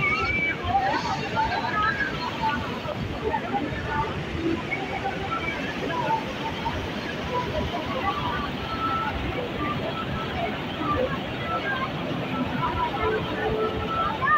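Rushing, churning water of Dhuadhar waterfall at Bheda Ghat roars steadily throughout, with a crowd murmuring and distant voices mixed in.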